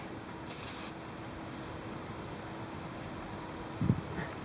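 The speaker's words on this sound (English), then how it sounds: "This is just brake clean right there, and we're going to want to hit the spots where the pads sit with some brake clean." A short, close burst of brake cleaner hisses from a spray can onto the spots where the brake pads sit on a Ford, followed by a faint second spritz and a small clunk.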